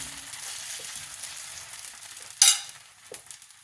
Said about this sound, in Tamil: இப்போ அடை ஊத்திடலாம்.